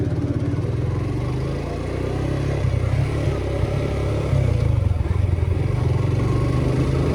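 A motorcycle rides along a road at night at moderate speed, its engine a steady, close, low throbbing drone with wind rush, rising slightly in loudness near the end, with no talk.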